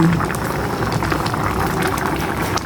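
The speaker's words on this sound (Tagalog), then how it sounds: "Ayan, kumukulo na ang ating longguha." A pot of sponge gourd (patola) bubbles at a steady rolling boil, close and continuous, with soft popping and hissing and no speech on top.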